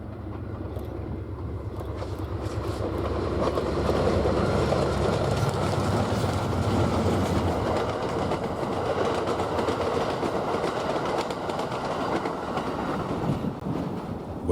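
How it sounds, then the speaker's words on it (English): Amtrak 3, a passenger train heading to Albuquerque, rolls past near Lamy station with a loud, rumbling clatter of wheels and cars that builds and holds steady, close by, with no voices. "The train we are seeing here is once again Amtrak 3 pulling passengers to Albuquerque and beyond."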